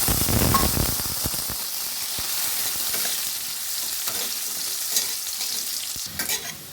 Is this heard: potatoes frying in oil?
yes